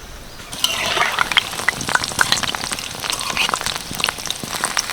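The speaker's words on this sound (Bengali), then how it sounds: "আবারও এখান থেকে অল্প অল্প ব্যাটার নিয়ে তেলের মধ্যে ছাড়বো" Ripe mango fritter batter fries in hot oil, crackling and spattering with dense, irregular pops and a steady hiss close by, with no talking.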